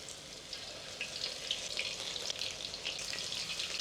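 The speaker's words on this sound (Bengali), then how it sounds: "তারপর চিংড়ি মাছগুলো আমি ছাড়তেছি ধীরে ধীরে" Prawns deep-frying in oil heated to about 170–180 degrees for a Cantonese restaurant-style dish give a steady, dense crackling sizzle, close and continuous throughout, with no talking.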